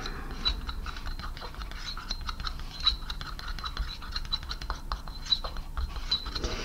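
A whisk beats a mixture in a small bowl, making faint, quick, irregular clicks and light scraping that run steadily throughout at low volume.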